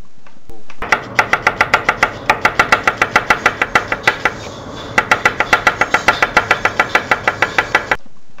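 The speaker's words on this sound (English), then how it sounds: "watch me chopping up this onion" A knife chops an onion on a board in rapid, evenly spaced crisp strokes close up, two quick bursts separated by a brief pause.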